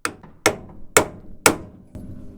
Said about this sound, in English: Gotta use a loud hammer?